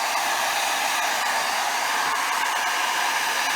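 A heat gun blows hot air onto tint film over a Porsche third brake light, a steady close, hissing whir that holds evenly throughout with no voices.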